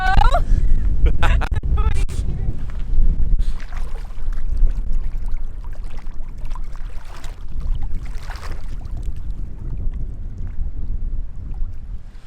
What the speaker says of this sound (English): it's insanely windy today